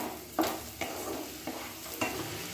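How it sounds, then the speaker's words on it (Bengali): Ground spices including coriander powder fry in oil in a pan and are stirred for a kochu shak dish, giving a steady sizzle broken by four distinct scraping strokes spaced roughly half a second apart, with no talking. "এবার সমস্ত মশলা ভালো করে মিক্স করে নিয়ে মশলাগুলোকে কিছুক্ষণ ধরে কষিয়ে নিচ্ছি"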